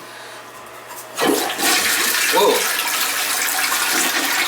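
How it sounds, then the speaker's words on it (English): An old toilet flushing with a loud rush of water that begins about a second in and runs steadily to the end, splashing up as it drains; a brief exclamation comes partway through. "when the water comes down here, it flushes in this direction"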